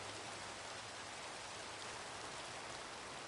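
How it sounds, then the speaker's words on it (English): Steady rain falling in Minecraft, a soft even hiss of drops with no other sounds, quiet and unbroken throughout. "I do adore the rain"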